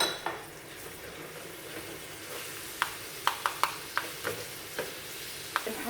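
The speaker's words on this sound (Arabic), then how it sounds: "ننزل بالثوم بس قبل ما تسيح بالكامل عشان ما تتحرقش" Minced garlic sizzles in a pan for molokhia, a soft steady fry under scattered light clicks and scrapes of a spoon against the pan, close and quiet.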